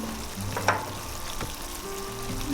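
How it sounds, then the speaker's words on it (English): Paneer cubes drop into a pan of cooked vegetables for a vegetable dum biryani, setting off a steady, close sizzle with a few brief clatters and no talk. "Now I am adding 1 cup of paneer cubes"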